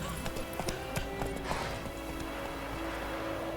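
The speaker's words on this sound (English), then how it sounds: "Whoa there, Roach" Horse hooves clip-clopping in The Witcher 3, a steady run of close hoof strikes with a brief whinny, no talk over them.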